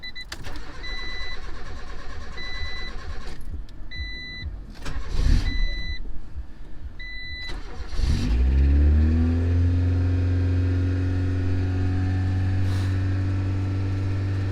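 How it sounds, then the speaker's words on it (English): A Honda CRX engine, just fitted with a swapped throttle body, cranks over with dashboard chimes sounding, then catches and fires into a loud, steady idle up close. "let's crank it over now. Start her up."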